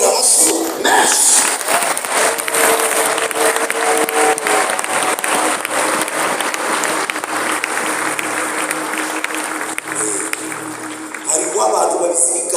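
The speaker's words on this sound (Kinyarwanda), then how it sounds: "Ndagira ngo iteraniro twese twikomere amashyi menshi." A church congregation bursts into sustained, loud applause, dense clapping from a large crowd filling the room steadily for about ten seconds, with a few voices mixed in before it thins at the end.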